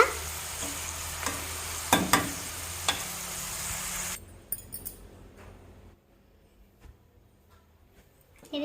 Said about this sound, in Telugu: ఇంతవరకు వేగింది కదండి మిర్చి